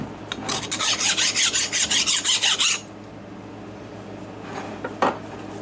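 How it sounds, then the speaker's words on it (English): A file scrapes a burr off a blade edge in about a dozen quick, even strokes, then stops, leaving quiet background with a couple of faint clinks. "Let me just take this burr off before it does some damage."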